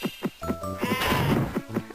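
Sheep bleat in the video game Spyro Adventure, a few short wavering cries repeating over a rhythmic game background, fairly close and clear with no talking.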